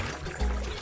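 Short whooshing pour of water while collecting water in the Super Mario Sunshine video game, a steady trickling gush lasting under a second with no talking.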